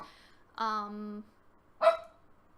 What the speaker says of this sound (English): Holly, she's barking at something.